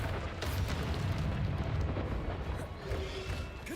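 A fiery rumbling roar from the Incendio fire spell in the video game Hogwarts Legacy, a steady loud whooshing burst with crackling texture that holds for a few seconds with no talk over it.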